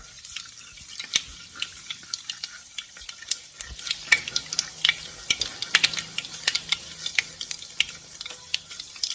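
Mustard seeds and fenugreek crackle as they fry in hot oil, a steady run of sharp pops and spits over a low sizzle, close and fairly quiet with no voices.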